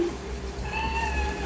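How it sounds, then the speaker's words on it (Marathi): Two house cats meow in a home kitchen where chicken biryani is being cooked, a single drawn-out meow rising clearly over a low steady background hum, close and fairly loud. "या 2 या घरच्याच मांजरी बाई कशा मातल्या"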